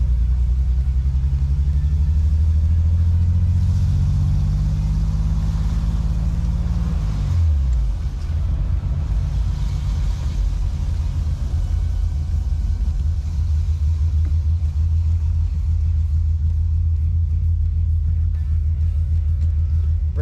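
A BMW 733i drives in second gear, its engine a loud, low rumble that rises in pitch, then drops sharply as the revs fall away, then settles into a steady droning cruise with road noise.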